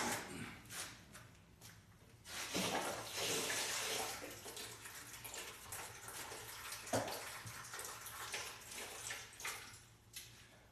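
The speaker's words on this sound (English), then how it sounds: "Water is draining." Water from water heater pipes drains into a bucket, a steady broadband splashing and gurgling that swells and surges for several seconds, with occasional louder gushes and spatters close by.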